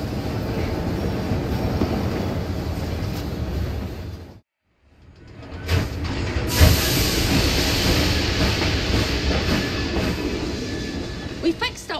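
A train runs with a steady rumble and rattle of carriages. The noise cuts out briefly partway through, then returns with clattering and a faint squeal near the end.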